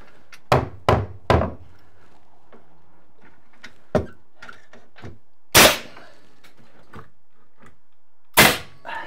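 Nail gun firing nails into a wooden wall stud during framing of a bedroom wall, several sharp close bangs: a quick triple burst, then single shots spaced apart, with two louder blasts of air.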